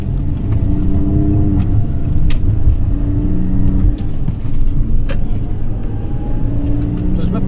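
An Audi A6 in sport mode accelerates hard on a road while overtaking, its engine a loud, steady, rising drone with road and wind roar heard from inside the cabin throughout.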